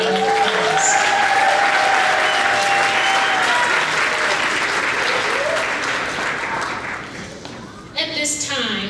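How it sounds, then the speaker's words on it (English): A crowd of families at an elementary school kindergarten graduation ceremony applauds warmly, sustained clapping that fades gradually after several seconds, with a few cheers and a voice near the end. "Let's give them a big round of applause."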